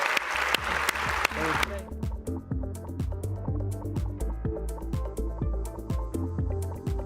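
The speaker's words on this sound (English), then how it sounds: "Please join me, a warm round of applause to Catherine Flowers." Conference audience in a performance hall applauds after a climate talk, a short burst of clapping lasting under two seconds before upbeat music with a steady beat takes over.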